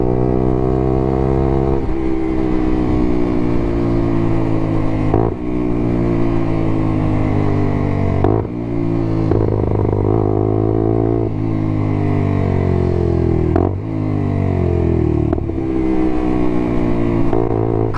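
Loud Lexmoto motorcycle with the exhaust baffle removed, engine rising and falling through repeated rev climbs and gear changes, a raw continuous roar heard up close.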